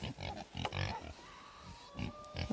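Several pigs on a farm, including a new boar, grunting in short close rhythmic bursts, a few grunts clustered at the start and more near the end.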